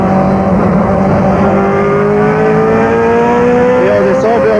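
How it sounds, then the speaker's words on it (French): A BMW M3 GTR race car brakes hard at Spa-Francorchamps, its loud engine note held steady and then stepping down through gear changes, heard close from on board with wind roar throughout. "Gros freinage à nouveau."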